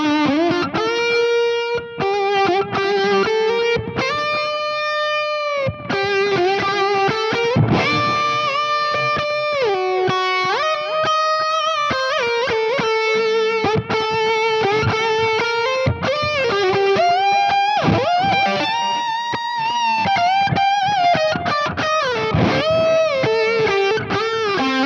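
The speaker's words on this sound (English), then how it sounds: "I switched there from the tight gain channel to the clean channel with the tube driver in it." An electric guitar played through a Mesa Boogie Stiletto amplifier's clean channel with a tube driver pedal, loud and sustained. Melodic single-note lines and bends ring out with a mildly overdriven, singing tone, with no talking.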